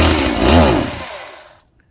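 A STIHL chainsaw fitted with a replacement Chinese engine runs loud and close, its engine pitch briefly swelling and then falling before it cuts out abruptly into silence.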